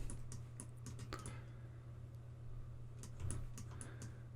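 Computer keyboard keys tapped while selecting a line in Blender, using Shift and Alt: scattered, light clicks in two loose bursts, near and fairly quiet over a steady low hum.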